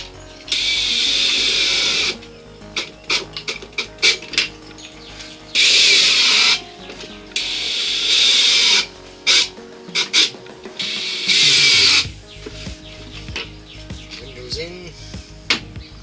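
A power drill drives short screws into the wooden parts of a Flow Hive Classic kit, several loud close whirring bursts of a second or two each, separated by quieter handling noises.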